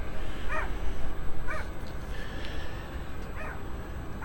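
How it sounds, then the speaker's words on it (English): A dog inside a car barks four times at spaced intervals, sounding somewhat muffled and distant over a constant low background rumble. "There's a dog in that car."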